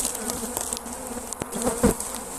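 Honey bees buzz steadily at an open hive in early spring, a close, dense hum with individual insects droning past now and then.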